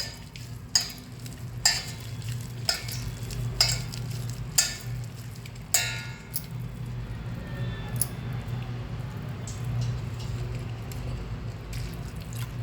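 A spoon scrapes and taps rhythmically through a thick onion bhaji batter of oil, water and turmeric, about once a second, over a steady low background hum with a faint sizzle.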